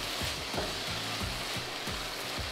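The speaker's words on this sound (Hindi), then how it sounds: "इसको हम 1 मिनट के लिए सौते कर लेते हैं। स्वीट कॉर्न डालेंगे, मिक्स कर लेते हैं" Sweet corn sautéing in a pan, a dense continuous sizzle with regular soft stirring strokes about every third of a second, close and steady.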